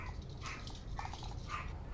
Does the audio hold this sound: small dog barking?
yes